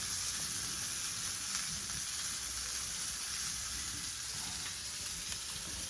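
Saundale fish fry in a pan of hot oil, giving a steady, close sizzle with a constant hiss and no voices throughout.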